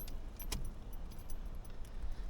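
A car ignition key jingles and rattles against its keyring as it is turned against a locked steering column, a brief close metallic clatter over a steady low cabin hum.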